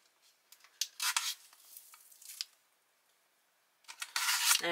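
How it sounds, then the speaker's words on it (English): A foil-lined packet from a French emergency ration is torn and crinkled open, giving bursts of sharp rustling and crackling with a short quiet pause between them, recorded close. "Let's open our cotton roll bar."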